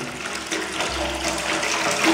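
Water pouring into a bucket of acid being mixed to clean a bathroom floor, a steady rushing splash that runs continuously at close range with no talk.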